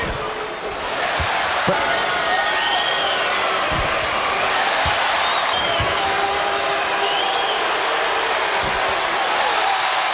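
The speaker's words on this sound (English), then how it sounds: "Oh, the crowd is just absolutely jazzed up here" A packed NBA arena crowd roars and cheers continuously after a player's free throws, with whistle-like squeals and scattered court thumps under a loud, sustained wall of noise.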